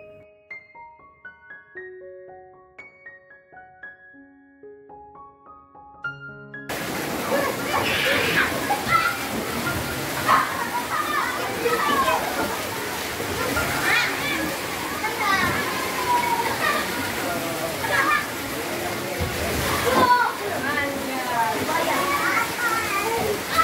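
A crowd of children swims and plays in a water park pool at a resort in Batu, Malang, with splashing, sloshing water and a constant din of shouts and chatter. A short melodic chime comes first, before the busy poolside noise sets in.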